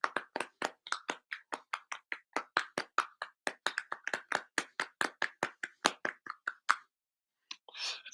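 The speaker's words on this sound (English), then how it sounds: "you ever want to know what the sound of one hand clapping is?" A single person slapping out a fast, steady run of sharp percussive claps, roughly three per second, close and dry, stopping abruptly before a brief rustle.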